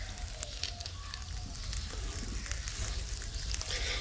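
Dried kachki fish frying in a little mustard oil, a steady close sizzle and crackle holding at an even level with occasional sharper pops.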